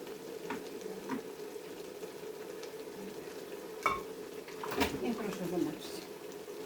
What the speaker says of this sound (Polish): Warzywka są podsmażone, też je tutaj przekładam do garnka.